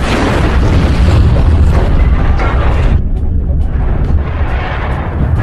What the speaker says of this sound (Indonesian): lalu meledakkan dinamit tersebut bersama dengan tubuhnya